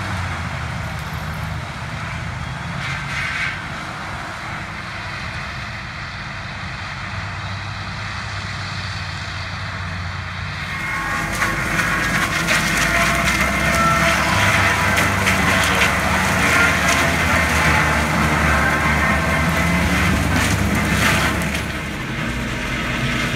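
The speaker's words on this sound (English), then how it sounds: "Here's another view of the harvester running." A willow harvester pushes over, cuts and chips willow trees, blowing the chips into a trailer: a steady low engine drone that swells into a louder, denser roar of chipping and crackling wood partway through.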